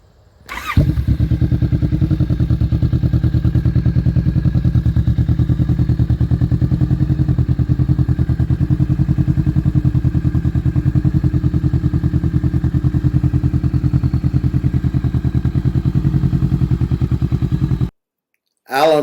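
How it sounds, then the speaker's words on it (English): A 2019 Kawasaki Vulcan S fitted with a 21-inch 550mm Delkevic exhaust starts up and idles, a loud, close, steady low thumping rumble that holds evenly before cutting off abruptly. "This is 2019 Vulcan S with a 21-inch 550mm Delkevic"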